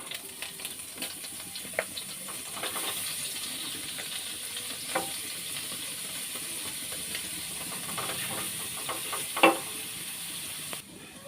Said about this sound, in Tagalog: pag nagisa na natin itong bawang sibuyas